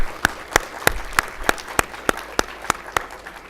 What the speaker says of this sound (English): Let's acknowledge him with an applause, please.